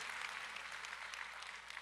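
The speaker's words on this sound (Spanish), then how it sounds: "A Él ese aplauso fuerte en el nombre de Jesús." A church congregation applauds for Jesus in a steady, dense wash of clapping that holds at an even level throughout, with no voices breaking through.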